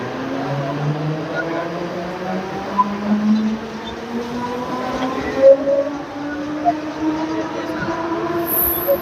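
A Mumbai suburban electric train at Sanpada railway station rumbles along with a rising electric motor whine as it picks up speed, wheels clattering and occasional knocks over the steady roar.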